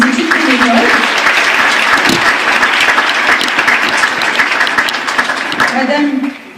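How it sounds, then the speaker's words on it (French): Loud, close applause fills a New Year's greetings ceremony in France, a dense steady clapping crowd for a volunteer being welcomed, with a few voices rising near the start and end before it fades out. "Bienvenue, on peut l'applaudir parce que c'est une bénévole."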